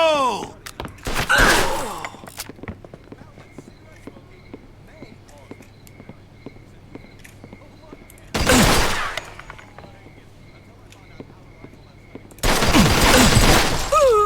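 Gunfire in the Mafia II video game comes in three loud bursts of rapid shots separated by quieter stretches of faint repeated ticking, with a brief voice early on.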